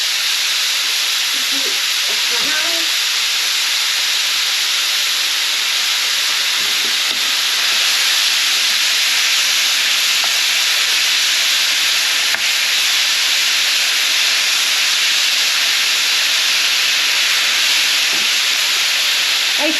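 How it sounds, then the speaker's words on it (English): Minced meat browning in a hot pan for spaghetti bolognese, a dense continuous sizzle and hiss held close and loud, with faint clinks of a utensil stirring now and then. "I'm just going to continue browning this meat"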